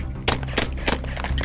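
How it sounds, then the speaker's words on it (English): Three or four sharp gunshots crack out in quick succession during a police arrest, loud and close, with a faint rumble between them. "Shots fired! Shots fired!"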